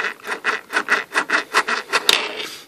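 A hobby gearbox turning with its cap tightened down makes a close, rhythmic rasping churn that pulses in about a dozen even cycles, with a slightly sharper catch near the end and no talking.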